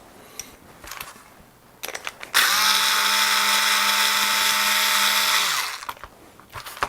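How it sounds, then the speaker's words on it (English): A power drill or driver runs loud and steady for about three seconds, backing screws out of the tremolo block of a Squier Contemporary Stratocaster, with scattered clicks and handling noise before and after. "I'm going to just take off the existing screws"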